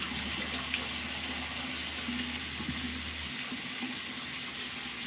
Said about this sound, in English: And I try to be gentle when I wash my face.